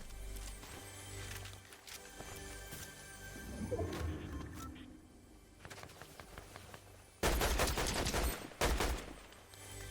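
Bursts of rapid video game gunfire near a bunker, scattered shots at first and then two loud, dense volleys near the end over a low ambient hum.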